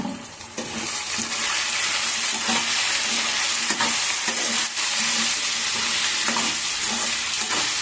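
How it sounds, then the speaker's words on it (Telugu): Spiced potato curry stirred in a hot pan with turmeric, chili powder and coriander powder, steady sizzling under repeated scraping spoon strokes, close and loud with no talking. "ఇప్పుడు వీటిని బాగా కలుపుకుందాం"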